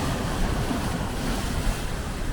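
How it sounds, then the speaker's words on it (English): Sea waves crash and splash against Thatchers Rock in a steady, loud, broad roar of surf. Gusts of wind buffet the microphone throughout, and no one speaks. "trying to catch the waves as they crash against this rock and splash up in front of Thatchers Rock here"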